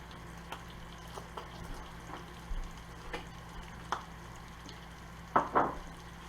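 Fennel seeds toasting in a hot pan give faint, scattered pops and light crackles at irregular intervals, a couple of them louder near the end, over a quiet low hum.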